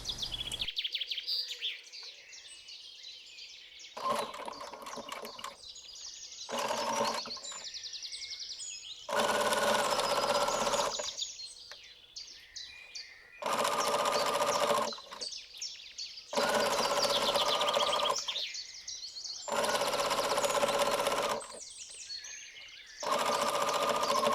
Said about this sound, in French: on va venir faire une surpiqûre à 2 mm du bord